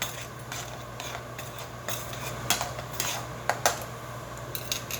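A spoon scrapes and clinks against a pot while meat sauce with added sugar is stirred, giving quiet repeated knocks and a soft sizzle, close and without voices.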